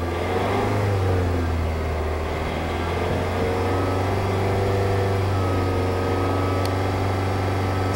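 A gasoline engine holds a steady run at about 3000 RPM, giving a loud, constant mechanical drone with a firm low hum and no break or change throughout.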